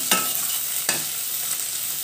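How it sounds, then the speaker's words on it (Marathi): Chilli thecha, still damp from the fridge, sputtering in hot oil in a covered pan while an okra curry is made: a steady close sizzle broken by a couple of sharp crackling pops, with no talk. "फ्रीजमध्ये ठेचा होता त्याच्यामुळे पाण्याचा अंश होता त्याच्यामध्ये, तर ते जरा तडतड अंगावर उडत होतं"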